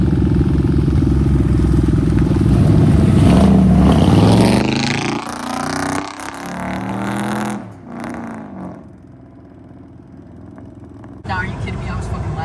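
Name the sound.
car engine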